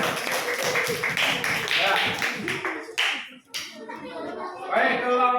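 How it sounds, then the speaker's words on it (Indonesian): A classroom full of students claps for a group after its presentation, a dense burst of applause that fades near the middle, followed by talking. "Tepuk tangan."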